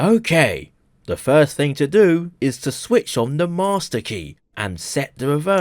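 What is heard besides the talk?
No everyday noises stand out.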